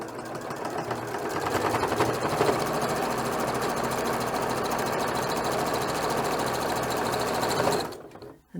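Close, steady sewing machine stitching along the edge of a homemade reusable scrubbing pad, a rapid even mechanical chatter running for nearly eight seconds before it abruptly halts.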